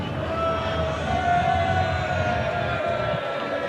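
A golf gallery on the 16th green grows rowdy, a continuous dense roar of voices and shouts from a large crowd at a steady, loud level throughout.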